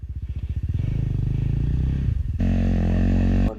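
Enduro motorcycle on a rocky single-track hard enduro trail, its engine pulsing at low revs then revving steadily loud and close, dropping briefly before a sharp higher rev that holds until it cuts off.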